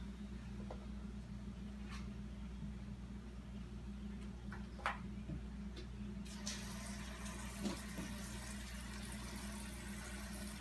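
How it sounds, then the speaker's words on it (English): Water from a pot filler runs steadily into a large pot on a kitchen stove, a continuous rushing splash under a low hum, with a few faint clinks and no talking. "So we're going to go ahead and add water to the pot."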